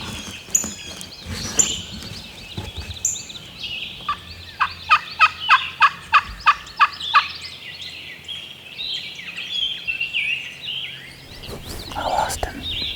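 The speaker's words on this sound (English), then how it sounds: "We've got a gobbler hung up out on that ridge." A wild turkey gobbler hung up on a ridge during a public-land spring hunt lets out a rapid, rattling gobble in the middle, with other calls, rustling and whispered talk around it, outdoors and moderately close.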